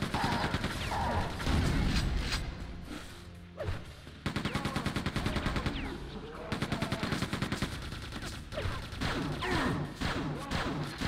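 Weapons fire in the first-person shooter Quake II: Ground Zero, with loud rapid bursts of automatic shots and heavy impacts, broken by short pauses.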